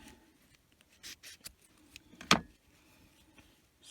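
Scissors snip through yarn on a crochet snowflake amigurumi ornament: faint rustling and handling, then one crisp, close cut, with no talking.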